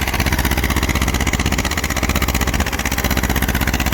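A two-cylinder Eicher 312 tractor engine hammers away up close in a pulling contest, a loud, steady, rhythmic diesel beat that pulses evenly throughout.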